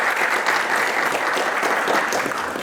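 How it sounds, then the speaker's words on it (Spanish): Conference audience applauding in a lecture hall, a dense, steady wash of clapping from many hands that holds evenly throughout with no voices over it. "el doctor César Bazán Naveda, a quien le expresamos nuestro saludo con un fuerte aplauso."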